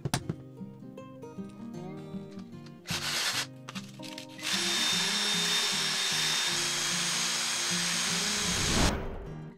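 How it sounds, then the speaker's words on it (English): A small rotary power tool whines steadily while sanding and cutting wooden dowels into masts and spars for a Billing Boats FD-10 Yawl model ship, loud and continuous over background music. "I sand and cut the dowels to the right shape and right length according to the drawings."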